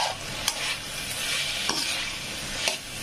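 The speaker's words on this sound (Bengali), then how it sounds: "কিছুটা ভেজে নিয়ে তারপরে মশলাগুলো অ্যাড করব। তারপরে এটা ভালো করে আবার নাড়াচাড়া করতে হবে" Spices with coriander powder fry in a pan, a steady close sizzle with occasional spatula scrapes and taps as the mix is stirred.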